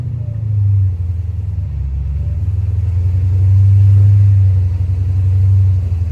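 A 2,000 hp Trackhawk with a 426 engine and a Whipple supercharger on street tires lets out a deep, steady engine rumble that swells louder midway through as it pulls, close and continuous.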